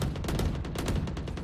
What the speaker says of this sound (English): He's just shooting for fun, though.